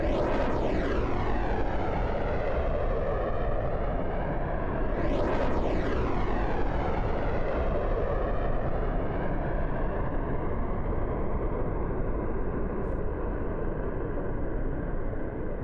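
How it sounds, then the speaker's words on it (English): Propeller airplane in the video game Project Zomboid flies overhead, a loud droning engine that sweeps past with a strong pitch shift near the middle, then slowly fades into a steady distant rumble. "Hear a plane coming, run."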